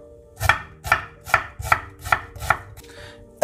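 An onion sliced thinly with a knife on a board, six crisp, evenly spaced chops followed by a short pause and one more cut.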